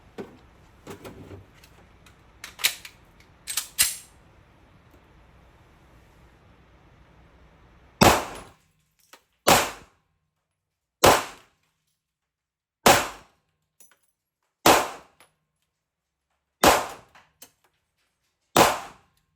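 Gunfire striking bowling pin targets: after a stretch of faint background noise, seven sharp, loud reports ring out alone at steady intervals of about 1.5 seconds, each with a brief ringing tail.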